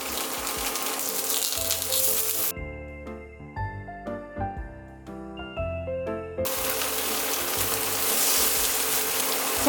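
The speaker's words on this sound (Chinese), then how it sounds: "然后稍微先煎一下，煎一个2、3分钟" Dried tofu pieces pan-frying in oil give a steady sizzle that cuts out for a few seconds while soft music notes play, then the sizzle returns at the same level.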